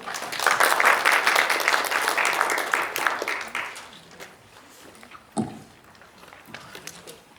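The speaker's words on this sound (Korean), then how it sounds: "박수 한번 보내주십시오" An audience at a symposium on generative AI claps for a keynote speaker, dense applause that is loud at first and then thins out and fades, with a single sharp knock and a few scattered claps near the end.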